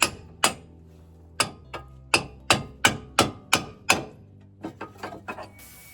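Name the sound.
hammer whacking a steering knuckle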